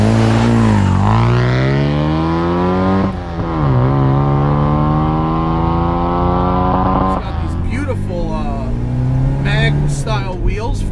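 A supercharged left-hand-drive 1967 MGB GT engine pulls hard through the gears. The loud, close drone climbs steadily in pitch, drops back at each shift, and carries on under the ride.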